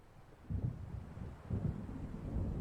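Low rolling thunder rumbles from an approaching storm in the video game Alan Wake, three swelling waves of deep, distant-sounding rumble over a steady windy, rain-like wash.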